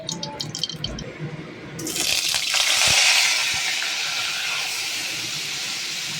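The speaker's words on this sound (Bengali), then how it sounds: "চিংড়ি মাছগুলো ওই তেলে দিয়ে আমরা ভালো করে ভেজে নেব" Prawns hit hot mustard oil in a kadai, and a loud broadband sizzle and hiss bursts up partway through, then settles into a steady frying crackle that continues to the end.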